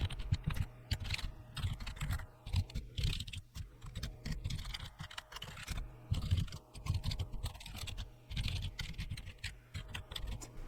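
Someone types rapidly on a computer keyboard while writing code, producing a dense, continuous patter of close key clicks with brief pauses and no talk.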